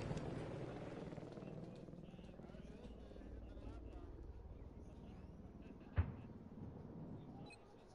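Helicopter in the video game Battlefield 4 on PS4, a steady low rotor drone running under game noise, with a brief sharp impact near the end and voices faintly in the background.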